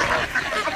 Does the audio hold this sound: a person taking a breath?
no